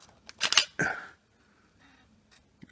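A DSLR camera shutter fires once up close, a sharp mechanical clack-and-snap followed by a brief whir, then near silence with faint handling clicks.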